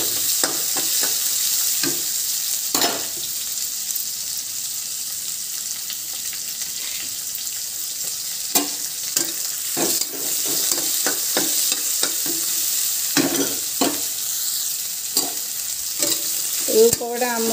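Onions frying and being stirred in a pan while cooking upma at home, a steady sizzle running throughout with repeated scraping stir sounds and spoon knocks, close and fairly loud, no talking.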